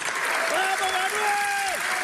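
A session audience applauds Adorni in a steady, dense clatter of clapping, with a voice speaking over it and a sustained tone partway through.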